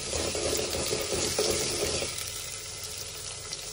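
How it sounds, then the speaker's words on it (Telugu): Mustard seeds, cumin and onion pieces fry in hot oil for a curry, a loud close sizzle with crackling that softens after about two seconds into a steadier, quieter hiss. "ఆయిల్ వేడయ్యాక ఆవాలు, జీలకర్ర, తర్వాత ఉల్లిగడ్డ ముక్కలు ఒకసారి కలుపుకుందాం."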